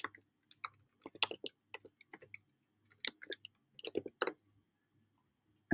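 Computer keyboard typing while entering a description, a quiet close run of uneven key clicks in short bursts separated by brief pauses, with no voices.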